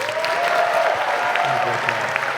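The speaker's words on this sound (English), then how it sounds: "just a round of applause for Frank being interpreted here" Brief burst of audience applause at a comic convention panel, steady dense clapping from a crowd that holds evenly for a couple of seconds, with a faint tone running underneath.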